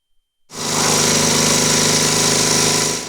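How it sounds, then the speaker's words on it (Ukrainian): Electric generators humming during a months-long power outage in Obukhivka, Ukraine: a loud, steady mechanical engine drone that starts abruptly and holds constant, close and alone. "Гул генераторів та повна відсутність світла."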